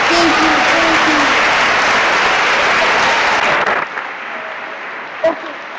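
Applause from the audience at a live meditation event in August 2012, a dense, loud wash of clapping that continues for several seconds before abruptly dropping to a thinner, quieter patter of hands.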